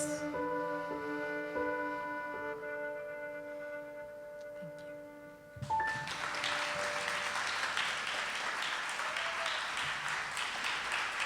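A tonal musical passage with sustained notes fades out, then an audience breaks into a burst of applause for the performer that continues steadily to the end.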